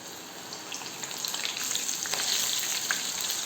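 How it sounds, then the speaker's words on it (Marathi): Corn kernels coated in cornflour and maida dropping into hot oil, a dense crackling sizzle that builds and stays busy and close, with no voices over it. "तेलामध्ये आपण कॉर्न सोडूया."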